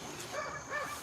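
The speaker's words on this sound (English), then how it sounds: "Bo's playing with the dogs behind us." Dogs yipping and barking in play somewhere behind the speakers, a short burst of light, faint yaps at a moderate distance over background noise.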